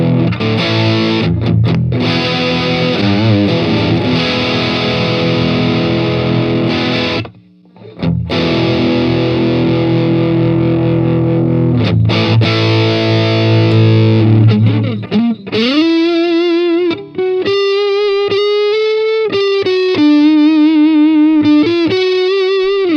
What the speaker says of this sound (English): Let's try it with some distortion.